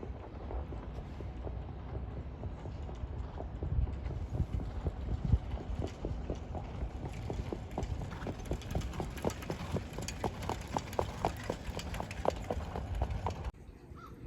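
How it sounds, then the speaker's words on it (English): Two horses gallop around the bend of a race track in Charlottetown, a steady rhythmic drumming of hooves heard from a distance under wind noise, continuing throughout before cutting off at the end. "And here he comes around the bend, and it's some horse in the lead."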